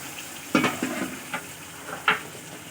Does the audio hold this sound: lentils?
yes